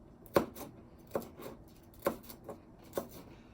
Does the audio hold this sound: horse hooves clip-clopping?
no